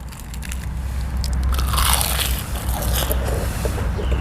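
Crunchy bites into Korean-style soy-marinated seafood such as salmon and shrimp, a close, loud cluster of crisp crunches and scraping textures over a few seconds, with no talking.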